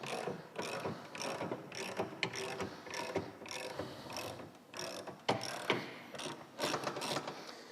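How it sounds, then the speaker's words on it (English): A motorcycle lift lowers a bagger motorcycle back onto its rear wheel, giving a close run of rapid ratcheting clicks and mechanical clunks in a steady uneven rhythm. "Now, I'm gonna lower the bike back down onto the wheel"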